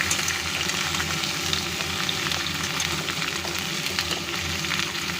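Cauliflower and tomato pieces frying in a pan, a constant loud hissing sizzle with a low rumbling undertone, close and unbroken, no talking.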